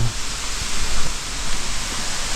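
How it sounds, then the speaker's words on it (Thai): A forest waterfall beside an abandoned monk's hut in the hills, a loud, steady broadband rush of falling water filling the scene, near and continuous with no speech. "เห็นไหมน้ำตกลงมา สวยงามมากนะครับ"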